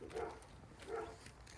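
Neighbor's dogs barking outdoors beside a garden, two faint barks about a second apart at a moderate distance, with steady background noise between them.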